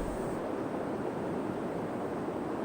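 A waterfall in the survival video game The Long Dark gives a steady, dense broadband rush of falling water that holds even and unbroken throughout, with no voices.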